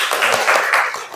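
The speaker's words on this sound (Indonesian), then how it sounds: "Oke, tepuk tangan dulu." A vocational school class claps in a quick burst, several brief surges of close, loud hand clapping that fades within about a second.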